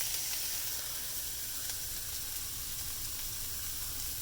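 Onions and peppers sizzle in a hot pan for shrimp and rice grits, making a steady, even hiss of frying that holds at a moderate level with no voices over it.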